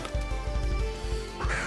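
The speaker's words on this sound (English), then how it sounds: "you might hear a bird in the background" A roommate's pet bird chirps and calls repeatedly in the background over a steady droning game soundtrack.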